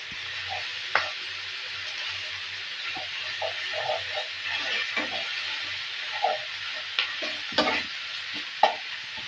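Chicken spice paste with ground cashew fries in a pan, a soft steady sizzle broken by scattered scraping stir strokes and occasional sharp clinks, with no talk.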